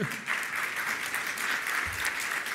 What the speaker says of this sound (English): So give a warm round of applause for Michael and for Andre.